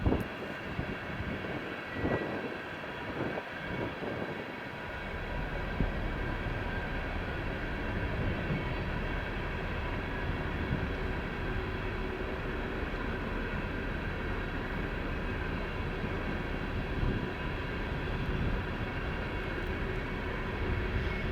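A steady, heavy rumble of a train rolling past at close range, continuous and loud for most of the clip, with no voices.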